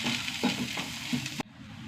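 Garam masala powder fries in a pan, a steady close sizzle with a few stirring scrapes, then cuts off abruptly near the end, leaving only a faint hiss.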